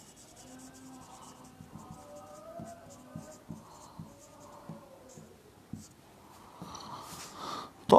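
Chalk or marker strokes on a board during a chemistry lecture on coagulation, a series of short tapping and scratching strokes in an uneven rhythm, moderately quiet, with the lecturer's voice faintly in the background.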